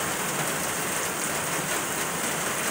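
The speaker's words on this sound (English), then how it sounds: "wait till the rain kind of dies down" Steady rain pours down outdoors at an outdoor shooting range, a dense unbroken hiss of drops hitting surfaces with no pauses and no voices.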